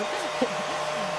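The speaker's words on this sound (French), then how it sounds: "Moi, c'est le bruit du sèche-cheveux." A hair dryer blows steadily at close range, a continuous airy whir that holds even throughout with no talking.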